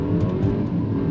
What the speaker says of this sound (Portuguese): vou fazer pra você aqui, ó, uma arrancada, bem de leve, não vou nem fazer launch, galera, nada, só vou acelerar